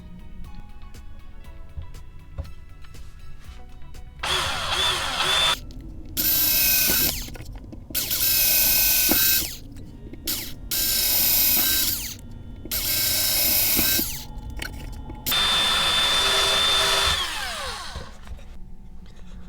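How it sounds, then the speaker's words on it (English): A power drill whirs in repeated loud bursts of a few seconds each, separated by short pauses, as holes are drilled one after another while mounting OS 46 AX2 engines on a Balsa USA Smoothie RC plane kit. "we'll drill it out now to the right size"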